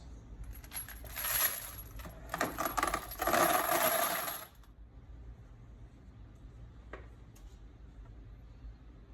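Freshly cleaned brass rifle cartridge cases, .223, clinking and rattling as they are poured and shaken together for several seconds, then a quiet stretch with one or two faint taps.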